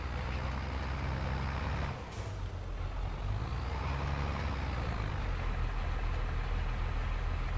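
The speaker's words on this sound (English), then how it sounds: "Jeez, listen to the tractor." A tractor engine running in Farming Simulator 22, a steady low droning rumble with a sharp hiss like an air release partway through, then the drone continues unbroken.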